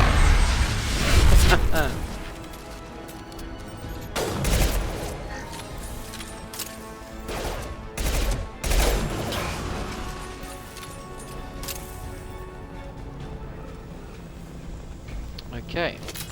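Gunfire in the Mass Effect video game, with several sharp shots and crashing bursts spaced irregularly over a continuous game soundscape, and someone talking over parts of it.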